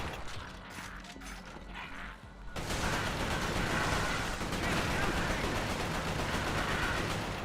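Continuous rapid gunfire from a shooter video game set in a resistance-themed campaign, a dense unbroken burst filling the second half after quieter mechanical clicks and rattles; no talking.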